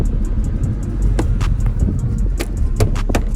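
A Hemi engine idles roughly with a suspected tick, a close, steady low rumble dotted with irregular sharp clicks and ticks.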